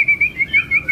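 A caged songbird, one of a set of fierce singing birds kept in PVC cages, gives repeated bright whistled chirps in short bursts, close and clear with no talk.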